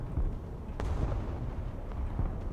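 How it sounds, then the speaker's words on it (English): Explosions boom and rumble in the modern military strategy game Broken Arrow as a missile strike lands, a dense low thunder with a few sharper distant blasts rising above a steady battlefield roar. "I think that was a missile trying to go for the Prowler."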